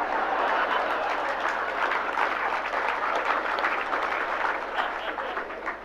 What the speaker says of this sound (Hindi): ये तालियां इधर से बज रही है, इधर से बज रही, इधर से बज रही